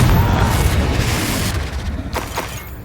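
A Confringo blasting spell explodes in the Hogwarts Legacy video game, a loud, sustained boom with a heavy low rumble that fades slowly, followed by two sharper crackling bursts near the end.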